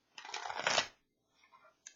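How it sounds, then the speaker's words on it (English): A Dark Mirror Oracle card deck is shuffled by hand in one close riffle burst lasting under a second, followed by a few faint card rustles. "yeah, shuffles nicely even with my weak hands."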